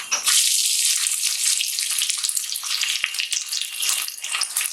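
Onions dropped into hot oil in a pan while cooking mutton dal gosht, a loud, dense sizzling hiss that starts at once and stays strong and steady, close up and with no talking.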